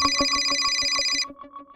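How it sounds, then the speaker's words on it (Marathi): A telephone rings with an incoming call, a rapid repeating electronic ringtone pulsing steadily at moderate volume before the high tones cut off and a softer trill trails away. "आलो जरा, बायकोचा फोन आहे."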